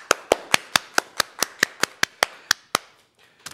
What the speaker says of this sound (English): Can we give her a nice big round of applause already?